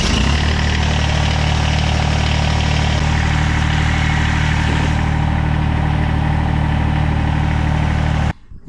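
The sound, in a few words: Kubota BX2680 tractor engine running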